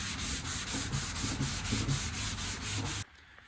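A sanding block with 220 grit paper rubs back and forth over the painted cowl hood of a 1983 Chevy van, about a dozen even rhythmic strokes, close and steady, stopping abruptly near the end.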